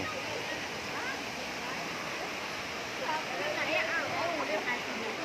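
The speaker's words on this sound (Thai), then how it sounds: "บรรยากาศน้ำตก มีน้ำตกด้วย" Steady rushing water from a waterfall in Mae Kampong, Chiang Mai, fills the scene, with voices and crowd chatter mixed in and growing slightly louder toward the end.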